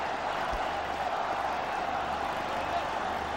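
A cricket stadium crowd roars steadily through a one-day international between India and Sri Lanka in 2007, a dense, continuous wash of cheering with no breaks, filling the space without a distinct voice standing out.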